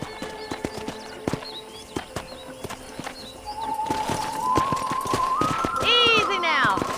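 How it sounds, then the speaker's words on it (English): A horse's hooves clip-clop in Red Dead Redemption on a ranch, sharp regular clacks amid birdsong. The pace quickens into a louder gallop with a whinny near the end, and a voice speaks over it. "Okay, let's see if you can still ride a horse."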